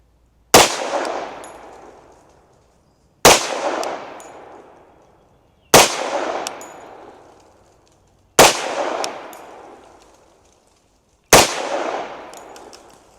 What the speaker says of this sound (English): Okay, well, we have these 200 grain Speer Gold Dots. Got target down range at about 15 yards. We'll see how we do with the pistol.